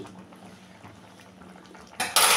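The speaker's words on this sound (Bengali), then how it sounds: "তো ভালো করে ঘিটা দিয়ে মিশিয়ে নেব।" Ghee being stirred into a cauliflower and potato curry in a metal pot, with steady soft scraping and clinking that ends in a loud burst of rattling utensil-on-pot noise.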